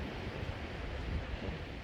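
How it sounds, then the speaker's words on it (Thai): Sea waves washing up and crashing on a UK beach, a steady broadband surf roar with wind, moderately loud and continuous, no voices. "เวลาน้ำทะเลขึ้นขึ้นมันจะพัดลงมาแล้วมันก็ถล่มลงมา"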